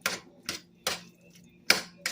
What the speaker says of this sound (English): So smash all the potatoes up so they're mushy, just like a mashed potato